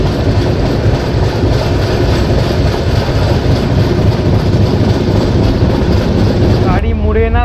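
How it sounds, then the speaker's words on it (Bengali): The Chambal Express moves off from Morena station, a loud continuous rumble of wheels and carriages filling the whole stretch, and a voice speaks briefly near the end. "গাড়ি মুরেনা স্টেশন থেকে ছাড়লো।"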